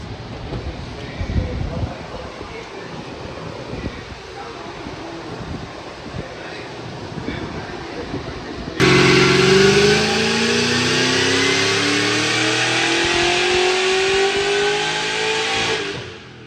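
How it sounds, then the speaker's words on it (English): A car engine revs on a hub dyno, starting after quiet shop noise and wind with a sudden loud, sustained pull that climbs steadily in pitch for several seconds before cutting off. "ryone has seen Miriam's car a few times, but we haven't ever put it on a Hub Dyno"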